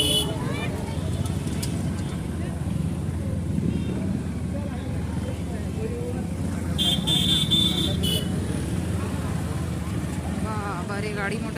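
Festival road traffic jam at the Chher Chhera celebration, with a constant rumble of vehicle engines and crowd hubbub, a couple of horn toots partway through, and people talking over the congestion.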